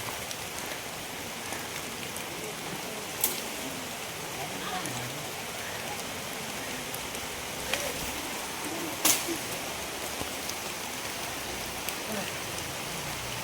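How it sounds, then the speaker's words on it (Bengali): Heavy rain pouring down outdoors near a fruit tree, a steady dense hiss of drops on surfaces with a few sharper knocks and taps, continuing without a break. "আর কি জোরে বৃষ্টি চলে এলো দেখো"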